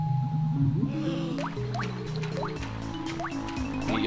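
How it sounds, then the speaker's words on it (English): Splashing in oily goop water in Banjo-Kazooie, with repeated bubbly, rising blooping splashes at a steady pace over cartoonish game music. "Get out of the water, the oily goop."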